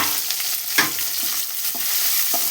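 Onions and curry leaves sauté in hot oil for an anchovy curry, a loud continuous sizzle broken by a few scraping stirs of a ladle, close up with no voices.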